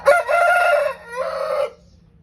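A rooster crows loudly and close, one long strained call with a brief break before the drawn-out final note, standing alone without talk.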